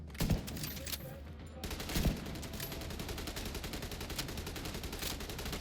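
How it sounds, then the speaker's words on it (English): Sustained automatic gunfire from a firefight in the video game The Division 2, dense bursts of rapid shots running continuously with a few louder close reports standing out. "That guy's not even shooting in the right direction, but I'm not complaining."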